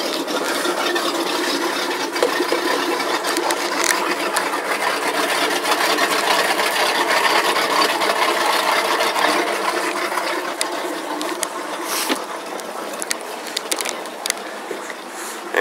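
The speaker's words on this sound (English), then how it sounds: "I just turned the key and this is an absolute cold start" A 2005 Hurricane 232 Fun Deck boat engine idles steadily just after a cold start, a continuous loud rumbling wash with no break and no voices.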